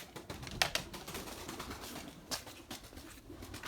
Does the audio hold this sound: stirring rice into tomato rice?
no